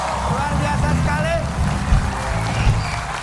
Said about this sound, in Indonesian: silakan tepuk tangan buat kalian semua yang sudah hadir di sini